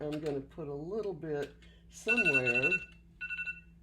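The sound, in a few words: phone alarm ringing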